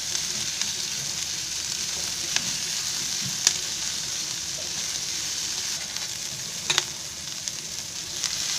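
Onion, ginger, garlic and curry leaves frying in a pan give a constant close sizzle, broken by scattered clicks and scrapes of stirring across several seconds, with no talking.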